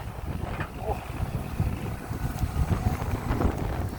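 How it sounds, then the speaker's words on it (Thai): Strong wind batters the microphone at a new pond being dug by a used Kobelco SK140LC Super XM excavator, a steady low rumble and buffeting under a man's speech. "ลมแรงครับ"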